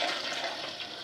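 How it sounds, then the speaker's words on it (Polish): Water swirls and drains steadily from a basin near the equator, a soft continuous gurgling rush close by, with no voices. "Widzicie, jak woda się kręci w drugą stronę."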